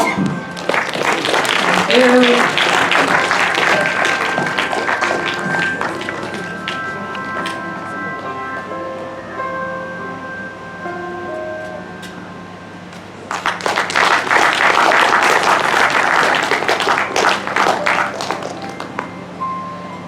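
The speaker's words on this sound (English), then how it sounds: "You're supposed to clap." Audience applause at a lecture hall event during a souvenir presentation comes in two bursts of dense clapping separated by a quieter stretch with scattered claps and brief talk.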